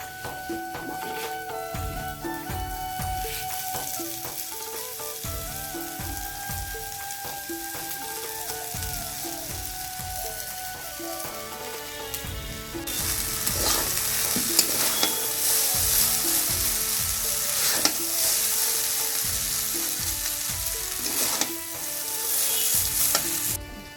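Egg chowmein stir-fried in a pan, loud continuous sizzling with scraping and stirring clatter from the spatula, the frying hiss growing brighter and stronger in the second half.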